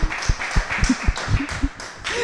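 A small audience at a talk show gives a short burst of hand clapping, with a few distinct, fairly close claps spaced unevenly over about two seconds.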